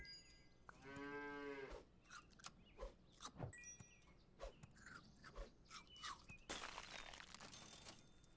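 A cartoonish cow moo from the pet in the Super Auto Pets video game, a single drawn-out harmonic low at the start, followed by clicky game effects and light chimes.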